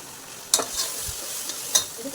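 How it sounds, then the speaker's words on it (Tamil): Ginger garlic paste frying in a pan makes a faint, low sizzle, broken by a few sharp spatula scrapes and taps near the start and end, with no voices. "இஞ்சி பூண்டு நல்லா வதங்கணும்"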